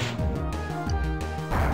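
The Waterfall attack from Pokémon Black 2 plays as a short burst of game-battle effects: a crashing, splashing hit pulsing over chiptune-style music, loud and close, with no talk.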